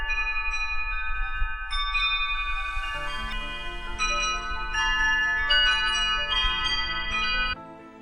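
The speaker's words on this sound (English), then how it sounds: "Oh, I love my chimes." Wind chimes ring in overlapping metallic tones, struck again and again in an irregular cascade that builds and sustains before cutting off near the end; fairly loud and close, with no talking.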